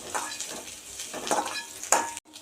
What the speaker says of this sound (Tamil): பூண்டு போட்டுட்டு நல்லா வெங்காயமும் பூண்டு நல்லா மணம் வர வரைக்கும் வதக்கிக்க வேணும்